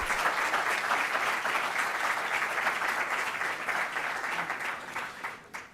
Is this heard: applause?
yes